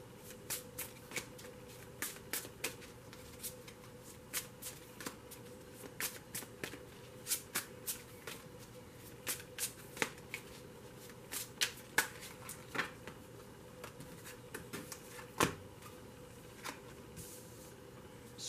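A deck of tarot cards is shuffled over and over, giving crisp, close riffles and snaps in an uneven rhythm against a quiet room.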